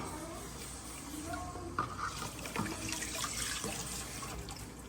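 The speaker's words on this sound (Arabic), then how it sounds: "صافي نخوي الماء" Water is poured out in a kitchen, a steady running splash at moderate distance, fairly quiet, with a couple of brief clunks partway through.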